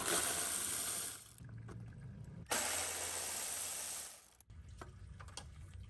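Socket ratchet turning a radiator bolt from underneath a third-generation Toyota 4Runner during an aluminum radiator install, giving two bursts of quick clicking followed by a few faint taps, close and quiet.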